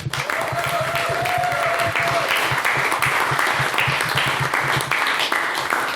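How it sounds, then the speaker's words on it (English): A debate-night audience gives a round of applause, a dense and even wash of many hands clapping at close range, holding steady from start to finish. "can we please have a round of applause for Miss Chloe Ferguson."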